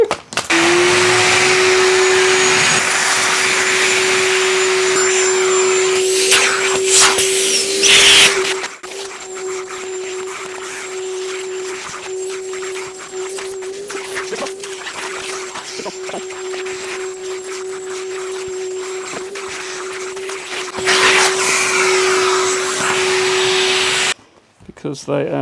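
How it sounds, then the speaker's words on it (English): Shop vacuum whining at a steady high pitch as it cleans dirty Land Rover Series seat bases, loud and continuous for most of the stretch with scraping bumps, then cutting off abruptly near the end. "Breaking out the vacuum again."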